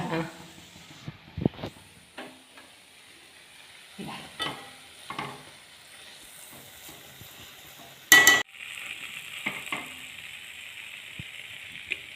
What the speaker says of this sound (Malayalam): ഇതുപോലെ ഇളക്കി ഇളക്കി ഇളക്കി ഇളക്കി ഒന്ന് റോസ്റ്റ് ചെയ്തെടുക്കണം